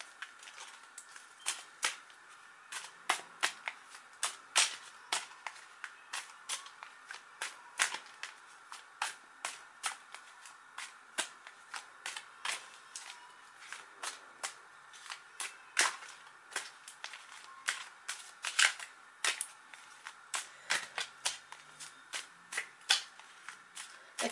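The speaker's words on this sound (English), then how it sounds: "So I'm going to shuffle the cards offline now." Tarot cards are shuffled repeatedly, a quick run of crisp riffling snaps and flicks in an irregular rhythm, close and fairly quiet.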